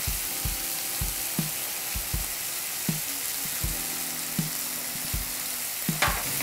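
Chopped tomatoes sizzle in oil with fried onion and salt for a South Indian cauliflower curry, a constant frying hiss punctuated by regular close taps and scrapes of stirring.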